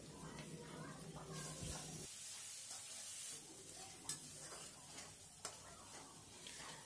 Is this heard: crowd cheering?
no